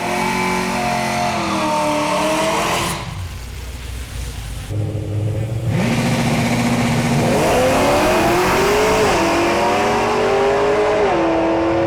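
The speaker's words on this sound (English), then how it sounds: "Spicy burnout." A race car holds a loud, sustained burnout, its engine revving hard with rising and falling pitch and a brief dip midway before roaring back up, close and dominant, with no talk over it.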